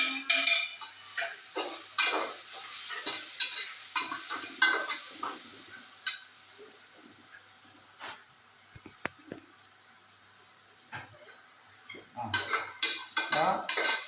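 Pots and utensils clatter and scrape while spiced vegetables are stirred and sautéed in a pot for veg biryani, with irregular close metallic knocks, quiet gaps in the middle and a busier flurry near the end.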